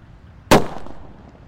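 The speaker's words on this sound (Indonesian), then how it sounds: "yang kita nyalakan di sini ada mercon colorful sweater" A colorful sweater firecracker bursts once with a sharp, loud crack, leaving a short fading rumble in an otherwise quiet outdoor setting.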